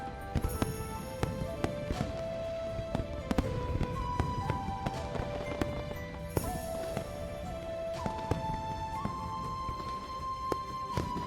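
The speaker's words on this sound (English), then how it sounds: "The fireworks are too loud." Dense, continuous crackling and popping fireworks bursts in Love and Deepspace mixed with bright music-like tones, a busy festive barrage that stays loud throughout.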